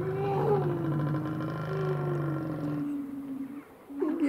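Lions and a lioness give long, deep moaning roars, a sustained close rumble that fades out near the end before a brief low grunt.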